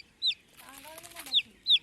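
A young chick gives three short, sharp cheeps close by, spaced apart, with a faint voice murmuring between them.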